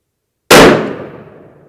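A single loud, close shot from a Savage 110BA bolt-action rifle in .338 Lapua Magnum fitted with a large muzzle brake: a sharp crack that rings out and fades over about a second.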